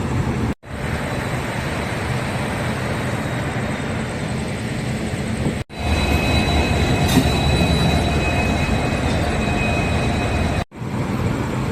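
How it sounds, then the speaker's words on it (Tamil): The Yercaud Express with new LHB coaches at Erode Junction, a loud, close rolling rumble of railcars with wheel squeal and rhythmic clatter, broken by two brief dropouts, no talking. "க்ரீன் சிக்னல் வந்து நம்ம ட்ரெயின் கிளம்பிடும்"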